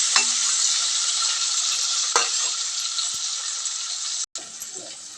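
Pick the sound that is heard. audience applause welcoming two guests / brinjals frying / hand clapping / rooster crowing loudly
brinjals frying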